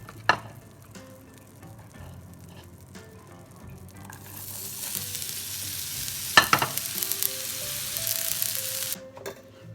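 Shrimp fry in a pan. A quiet start gives way to a loud, steady sizzle that fills the second half, with a few sharp clatters from stirring.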